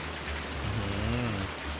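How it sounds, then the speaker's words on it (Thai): Rain falling in the farming game Farming Simulator 19, a steady, dense hiss with a low rumbling layer that might be an idling vehicle, continuous throughout. "กับบรรยากาศฝนตกแบบนี้"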